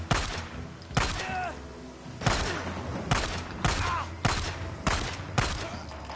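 Gunfire in the zombie-survival game Days Gone: about six heavy, evenly spaced shots or bursts roughly a second apart, loud and close, with brief speech fragments between them.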